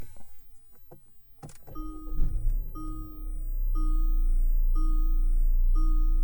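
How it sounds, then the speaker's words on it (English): A button click and brief starter whir as a base model Kia Stinger's push-button start is pressed, then the engine catches and settles into a steady idle while a repeating chime sounds in even pulses. "you guys will hear it when I start the car."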